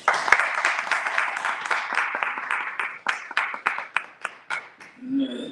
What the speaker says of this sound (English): Bernstein, give her a round of applause